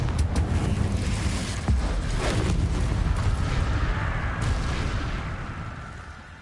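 Confringo blasting-spell explosion in the video game Hogwarts Legacy, a broad rumbling blast with a sharp onset followed by a long roaring, crackling tail that slowly fades, loud and close with no talking.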